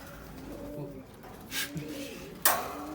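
Pigeons cooing softly in a coop, a few low murmuring calls with a brief rustle and a sharp flutter or knock near the end, faint and close.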